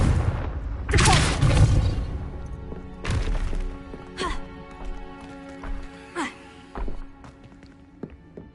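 Confringo blasting spell from Hogwarts Legacy: a heavy booming blast near the start, followed by a scattering of sharper thuds and impacts at uneven intervals that fade toward the end.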